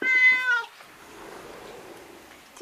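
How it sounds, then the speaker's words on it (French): A cat gives a single clear meow, close and fairly loud, which fades into quiet indoor room noise. "il y a 2 chats qui m'ont adopté"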